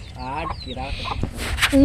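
Chickens clucking nearby in short bursts, with a brief rustle and a sharp squawk at the end.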